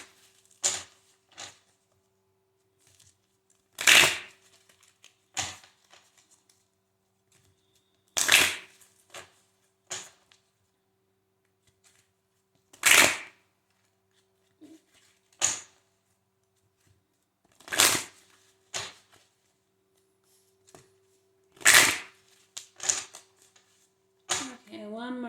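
Tarot cards are shuffled by hand in short, soft, papery bursts every few seconds against a quiet room, with brief taps and rustles in between.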